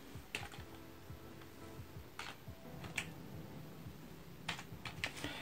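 A computer keyboard clatters as a username and password are typed in, steady soft key taps with a few louder strokes, close by over faint background hum, no talking.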